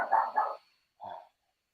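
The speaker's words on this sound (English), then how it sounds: "my dog's barking" A house dog gives two quick, close barks in succession, then one softer bark after a short pause, with no talking.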